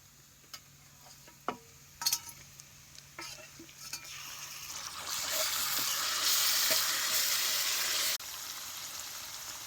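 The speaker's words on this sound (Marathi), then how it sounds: "आता हे कांदा भाजत आलाय" Onion frying in oil in a pan during village cooking of a potato and gram-flour curry, a steady sizzle that swells louder midway, with scattered stirring clicks and utensil knocks near the start and no talk.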